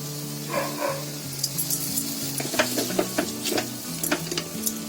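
Coriander leaves stirred into sizzling vegetables in a pan over a low gas flame, with steady frying hiss, scraping stirs and light clinks against a faint background hum.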